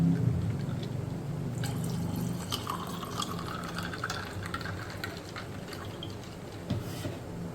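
Chilled water pours into a falsa sharbat mix, a continuous gurgling fill with light splashing and drips, close and fairly quiet.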